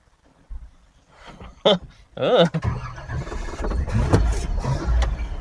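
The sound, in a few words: car engine running, throttle being feathered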